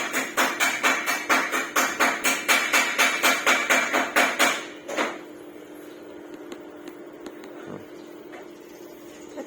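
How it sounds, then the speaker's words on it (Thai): A home ice maker clacks through a rapid, steady run of sharp mechanical knocks for about five seconds, then falls quiet to a low hum with a few faint ticks. "มันกำลังผลิตน้ำแข็ง"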